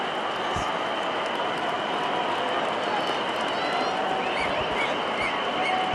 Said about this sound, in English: all applause coming from the dressing room